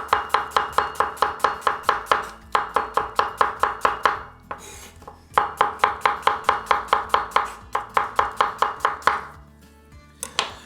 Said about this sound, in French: je vais émincer mon oignon.